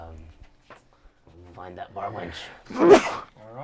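A single sharp sneeze bursts out amid relaxed conversation at a tabletop role-playing game session, loud and close, with voices talking before and after.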